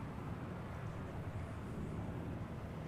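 An American airliner arriving from Rome roars as it comes in at DFW Airport, a steady broadband jet rumble heard from a distance with no talk over it.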